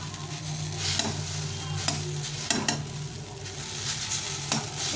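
Veg chowmein with chopped chilli is stir-fried in a pan with little oil, a steady close sizzle broken by several sharp scrapes and tosses of the spatula, with no talking.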